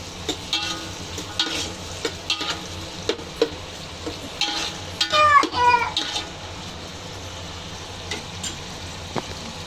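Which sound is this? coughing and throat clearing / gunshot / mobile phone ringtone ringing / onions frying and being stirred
onions frying and being stirred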